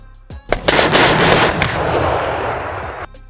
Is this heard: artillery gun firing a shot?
yes